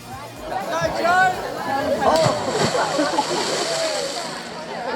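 A person jumps into water and lands with a big, sloshing splash, followed by water churning while a crowd chatters and voices talk over the scene.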